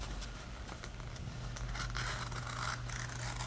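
Scissors or a blade snip and crinkle through excess canvas along the stretcher bar of a canvas print, faint rustling and cutting noises over a steady low hum.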